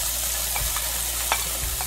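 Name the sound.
bacon cubes, shallot and garlic frying in a pan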